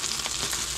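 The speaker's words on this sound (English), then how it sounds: "it's been 5 or 6 minutes and that thing is really sizzling away" Food sizzles steadily in a hot pan, with cast iron mentioned, as it fries: a dense, continuous hiss at close range and fairly loud, with no pauses and nobody talking.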